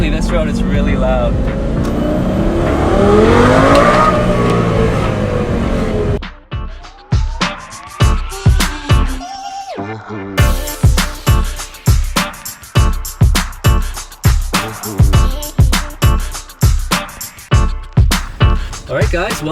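Lamborghini Gallardo fitted with a DDE aftermarket exhaust accelerating on a road, a loud sustained engine roar giving way to a rapid series of sharp rising gear-change pulls, with people talking over it.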